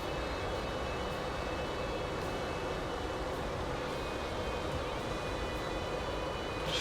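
Steady, droning jet engine roar of an F-5E Tiger II flying in DCS World, a continuous broadband whine and rumble with a faint high tone, unchanging and alone.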